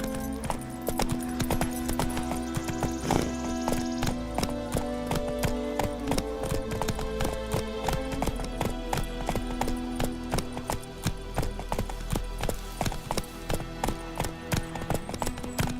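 Horse hooves trot in a steady clip-clop rhythm in The Witcher 3, mixed with game music and ambience throughout.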